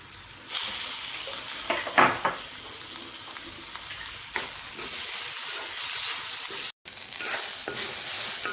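Grated coconut is stirred into chopped pumpkin stems and leaves in a hot pan, giving a steady close sizzle with occasional scraping stirs and a brief gap near the end.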